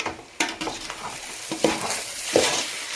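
Pork sizzling in a pan at a village kitchen while being stirred, with several close scraping strokes over a continuous frying hiss, no voices.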